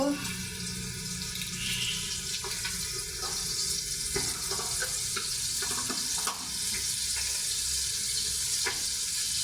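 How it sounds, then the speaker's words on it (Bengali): A blender-ground spice paste with turmeric fries in a pan, meant for a rohu fish head and kochu dal, making a continuous dense watery sizzle with faint scattered ticks and pops, steady and close, without voices. "এখন এগুলো ভেজে নেবো"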